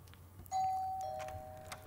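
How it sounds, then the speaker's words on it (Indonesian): A house doorbell rings once, a clear, close chime that sustains and slowly fades against a quiet indoor background. "saat Basanti membunyikan bel rumah"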